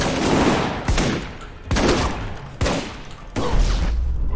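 A starter shotgun in the video game Alpha Protocol blasts four times at a steady spaced rhythm, each shot loud and close with a short decaying tail.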